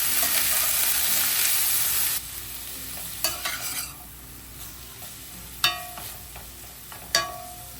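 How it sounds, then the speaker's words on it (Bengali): Long beans frying with turmeric, salt and green chili sizzle loudly at first, then settle to a quieter crackle broken by sharp scraping and clinking stirs of the pan. "আর এর মধ্যে আমি সামান্য হলুদ আর লবণ আর কাঁচা লঙ্কা একসঙ্গে দিয়ে ভালো করে ভেজে নেব এটাকে।"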